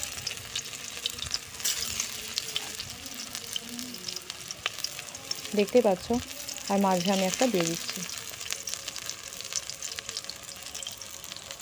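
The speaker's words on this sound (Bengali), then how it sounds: "আমি একটু কম তেলের মধ্যে ভাজছি, তোমরা একটু বেশি তেল ইউজ করতে পারো" Pumpkin flower fritters frying in a little oil, a steady soft sizzle with brief stirring and scraping bursts in the middle, while someone talks over it.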